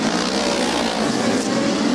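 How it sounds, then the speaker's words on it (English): A V4-engined race car roars past on a USAC track, a loud, dense, continuous engine drone close to the microphone that fills the whole short clip with no talking. "That's the sound of a V4."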